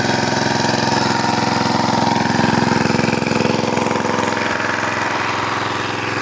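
A diesel engine drives a pump drawing groundwater to water trees, a loud, steady, close chugging drone that runs without a break.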